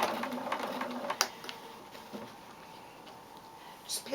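A sewing machine back stitching over a fabric mask tie, running in short bursts of rapid close needle chatter that taper off, with a faint background voice and a soft click near the start.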